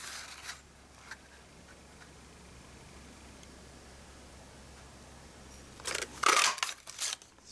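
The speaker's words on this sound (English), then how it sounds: "we're going to cut that out with the decorative label punch" A decorative label punch snaps through card stock in a short burst of crisp crunching clicks near the end, after a stretch of quiet room hiss with a couple of faint taps.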